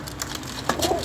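Soft cooing from a pigeon with mismatched black and yellow eyes rises briefly near the end, set against steady low background noise, with no one speaking.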